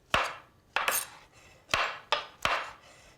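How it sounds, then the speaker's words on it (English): A knife cuts coarse slices through cremini mushrooms on a cutting board. Five crisp, separate chops land close and clear at an uneven pace, with quiet gaps between strokes. "we're going to cut these into slices, just coarsely"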